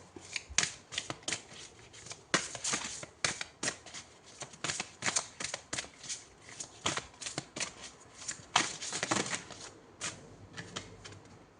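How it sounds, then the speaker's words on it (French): Tarot cards shuffled and drawn from the deck, a long run of crisp, rapid riffling flutters and slaps in uneven bursts, close and fairly loud, with no talking. "Allez, on prend une deuxième carte."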